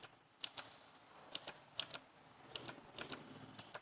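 Repeated presses of the right arrow key on a computer keyboard, sharp quiet clicks spaced irregularly, some landing in quick pairs, over faint background hiss.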